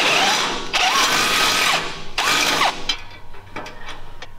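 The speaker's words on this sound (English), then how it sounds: "I'm gonna drill a hole through both of these" A power drill bores through trailer ramp metal in two long grinding runs with a squealing bit, followed by shorter clicks and mechanical ratcheting.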